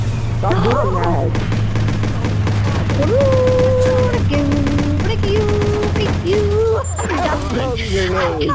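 Gunfire and explosions from the video game Watch Dogs crack in rapid bursts under a player's animated talking, with a steady low hum running behind the close, loud shots.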